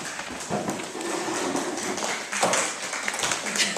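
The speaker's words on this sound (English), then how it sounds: "You don't need to applaud" Scattered audience clapping during a church Bible study session, a light, uneven patter of hands that carries on steadily for a few seconds without talking.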